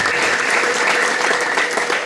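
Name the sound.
congregation applauding in church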